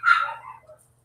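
A puppy lets out a single sharp, close bark at a delivery, trailing off into a short softer yip, with no one speaking.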